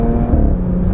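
The supercharged 3.0 TFSI V6 in an Audi A7 pulls under acceleration, a brief, loud steady engine drone heard from inside the car with no talking.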